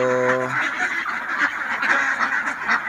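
A flock of domestic ducks raised for eggs or meat calls continuously in a dense, nasal chorus of overlapping quacks and honks close at hand, after a brief tonal whine at the start.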